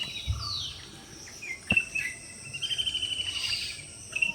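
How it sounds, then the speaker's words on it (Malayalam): Birds call on the green banks of the Manimala river near a Kerala temple: scattered chirps and a sharp tweet ring out over a faint steady trill of insects, some nearby and some distant, with no talking. "കിളികളുടെ ശബ്ദങ്ങൾ കേട്ടോ."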